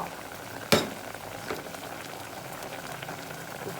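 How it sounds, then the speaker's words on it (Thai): Chicken giblets simmering in a pot give a low, steady bubbling murmur, with one sharp click near the start and a softer knock a moment later, no voices. "เราก็จะเคี่ยวให้เครื่องในมันสุก"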